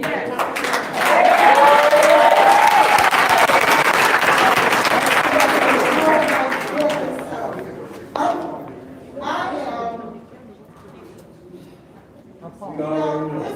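Applause for young people at a Flint city council meeting, loud crowd clapping for about seven seconds, then fading as voices and talk take over.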